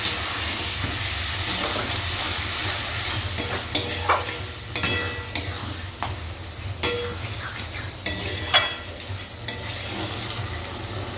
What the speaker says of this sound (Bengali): এই জলটা দিয়ে কিন্তু পটল আলুটা আবারও কষে নেব।